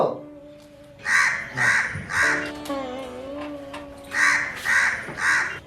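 In a narrated Gujarati children's story, two groups of three loud, raspy crow caws, close and rhythmic, are separated by a short pause with a steady tonal drone underneath.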